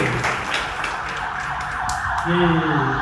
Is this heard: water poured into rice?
no